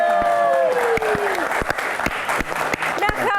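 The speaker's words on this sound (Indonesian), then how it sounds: "kita berikan tepuk tangan untuk rekan-rekan mahasiswa dari Al-Azhar" Applause from a live studio audience for university students at a Q&A show, dense and loud clapping that rises to a peak and slowly thins out, with a presenter's voice over the start.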